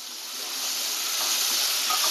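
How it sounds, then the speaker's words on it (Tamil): Small chopped shallots fry in hot oil with cumin and curry leaves, giving a soft, steady sizzle and hiss that builds slightly, close by and fairly quiet. "இப்போ இந்த சின்ன வெங்காயம், இது சிறுதா அரிஞ்ச வெங்காயம் மட்டும் நம்ம வதக்கிப்போம்."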